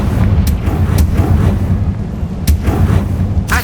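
Blasting Confringo spell explosions in the video game Hogwarts Legacy, loud booming bursts repeating every half second or so over a constant rumbling game soundscape, with no talk.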